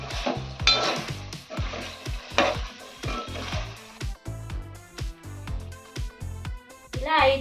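Gongura chicken stirred in a pan while it simmers, with spoon clinks and scrapes against the cookware coming in short, irregular strokes under steady background music.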